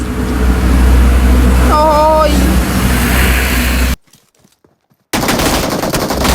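Loud gunfire rattles in the video game PUBG over a dense, roaring game soundscape, with a brief tonal sound effect in the middle. The sound cuts to near silence for about a second before resuming.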